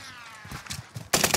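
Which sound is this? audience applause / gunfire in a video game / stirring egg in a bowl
gunfire in a video game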